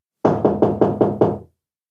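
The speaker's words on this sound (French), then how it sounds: "toqua à la porte" Someone knocks on a door six times in an even, steady rhythm. The raps are close and loud, followed by silence.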